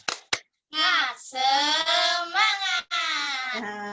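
Two young children perform a 'tepuk semangat' clapping chant in a class lesson: a couple of sharp claps, then high sung chanting in short bursts, close and clear.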